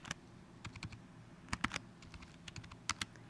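Keys clatter on a computer keyboard as a folder name is typed, short bursts of close, quiet clicks with brief pauses between them.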